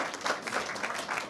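Steady clapping from an audience, a dense patter of many hands sustained throughout at moderate loudness.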